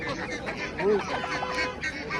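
Ducks at a poultry market in Khojaobod district, Andijan region, giving a few faint honking quacks amid quiet background market noise.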